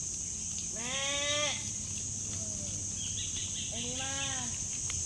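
Goats bleat loudly in two wavering calls a few seconds apart, with a steady background hum and faint outdoor noise.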